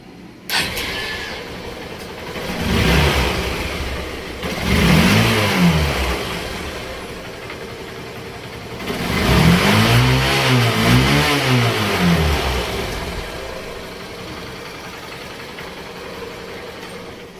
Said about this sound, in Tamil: இப்போ வண்டியை வந்து நம்ம ஸ்டார்ட் பண்ணி பார்த்தாச்சு இப்போ இன்ஜின் சவுண்டுனா நல்லா ஸ்மூத்தாக இருக்குது